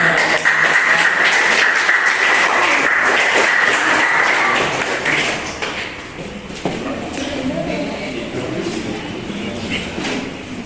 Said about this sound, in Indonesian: Ya, kita beri tepuk tangan.